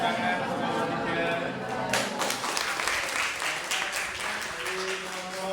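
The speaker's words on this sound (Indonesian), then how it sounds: "tepuk tangan kelompok 3" A classroom group of teachers-in-training applauds group 3, a dense wash of clapping that rises after two seconds and holds steady, with faint voices murmuring underneath.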